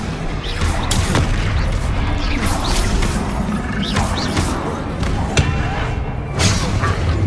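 Expelliarmus spell effect in the Hogwarts Legacy video game, loud booming impacts and crashes bursting over a dense, continuous game soundscape of combat effects.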